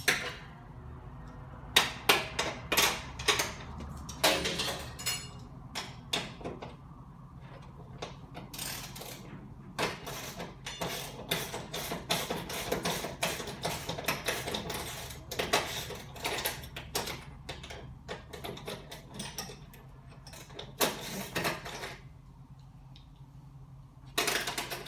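Nuts and bolts being removed from a sponge roller mechanism, heard as irregular metallic clicks and ratcheting taps, sometimes in quick bursts, with quiet gaps between.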